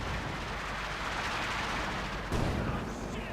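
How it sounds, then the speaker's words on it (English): Gunfire pelting an anti-tank gun during a Company of Heroes 2 battle: a dense, continuous barrage of rattling shots and blasts that swells into a louder burst near the end, with no voices. "Got the anti-tank gun there getting pelted."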